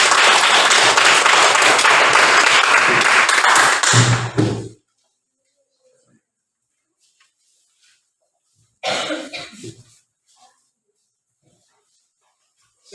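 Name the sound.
audience applause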